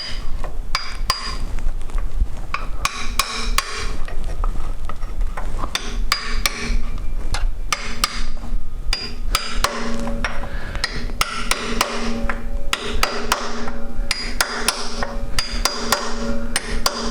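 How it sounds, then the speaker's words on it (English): Rapid, steady metallic hammer taps ring out close by, dozens of quick strikes in a continuous rhythm tapping a seal into a Dodge Cummins diesel engine, with no talking. "we're just going to go ahead and get it started with our hammer"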